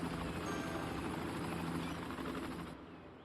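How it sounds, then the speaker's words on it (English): Helicopters fly over a burning city in the game Cities Skylines, making a dense, steady rotor chop and rumble that cuts off abruptly near the end. "We have helicopters moving in and out."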